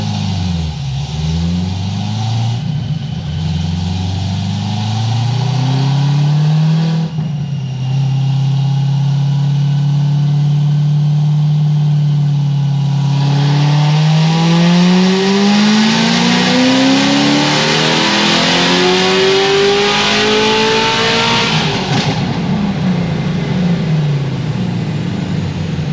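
A 900+ rear-wheel-horsepower supercharged Corvette C6 ZR1 revs loudly through a full dyno pull, engine note climbing steadily in pitch as it winds up, then dropping away at the end, with no talking.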